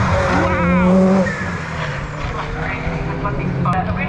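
A race car on a flying lap at a Cadwell Park time attack session roars past with a loud, sustained engine drone that shifts in pitch. An excited commentator talks over it.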